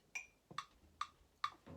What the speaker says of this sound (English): just play with the metronome